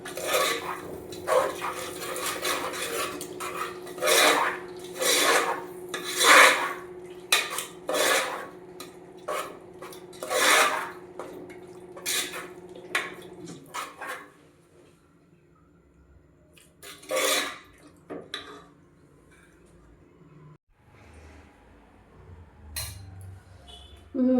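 Spoon clinking against a bowl while mixing palakura gongura pachadi, a series of sharp metallic clinks in irregular bursts, later thinning to sparse taps with quiet gaps.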